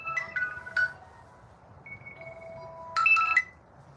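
A telephone ringtone plays short melodic electronic tones in two bursts, with a quieter sustained tone between them, heard alone at moderate volume.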